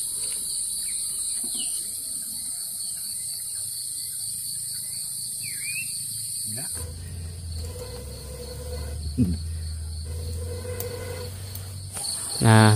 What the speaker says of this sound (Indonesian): Suara burung ya di sini mah.